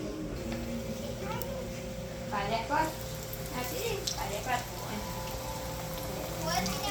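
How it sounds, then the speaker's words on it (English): Sahina, a fried split-pea fritter, sizzles in hot oil at a Trinidad Divali food stall; the frying hiss is steady but faint under outdoor crowd noise and children's voices. "Alright, so we're frying."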